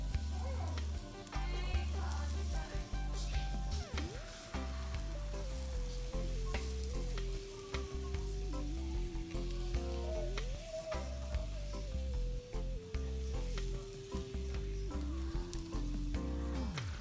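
Thin crepe batter sizzles on a hot, oiled pan with a steady frying hiss that runs the whole time beneath prominent background music.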